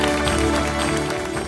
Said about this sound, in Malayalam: എല്ലാവരും നല്ലൊരു കയ്യടി കൊടുക്കുക.